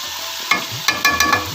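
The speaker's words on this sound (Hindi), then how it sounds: "ताकि हमारी मिर्चें जो है वो अच्छे से इस ऑयल के अंदर फ्राई हो जाए, पक जाए" Red chilies frying in oil in a spice masala, a close hiss with several sharp clinks of a spoon scraping and stirring the pan, with no voices.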